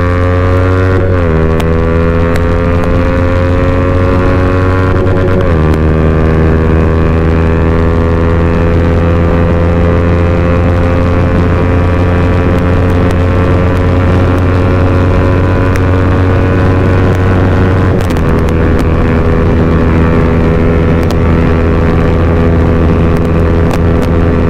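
A Yamaha R15 V3 and a TVS Ntorq scooter race each other, their engines a loud, continuous drone that steps up in pitch at a few gear changes, with wind rushing against the microphone.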